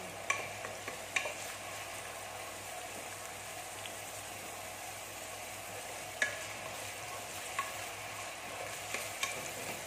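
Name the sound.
stirring food browning in a pan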